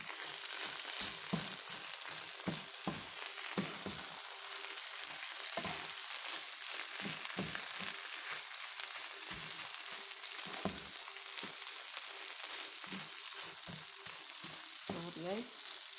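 Spoon stirring mung beans with coconut milk in a pan for a ginataang dish, giving repeated scraping strokes over a steady sizzle. Clear and close, with no talk.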